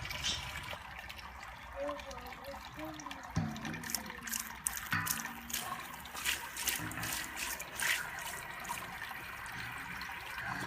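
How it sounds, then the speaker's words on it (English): Sparge water poured by hand over the grain bed in a Grainfather all-in-one brewer, a steady splashing trickle running throughout at moderate level, with a voice speaking briefly over it. "And we'll just pour the sparge water"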